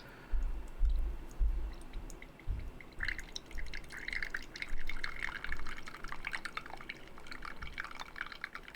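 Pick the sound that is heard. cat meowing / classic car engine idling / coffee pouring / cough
coffee pouring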